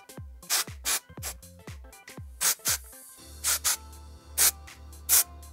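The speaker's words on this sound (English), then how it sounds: "So I'm gonna spray this right at my roots." Do Gooder volumizing dry shampoo sprayed at the hair roots in several short bursts, each a close, breathy hiss about half a second long, with quiet handling sounds between them.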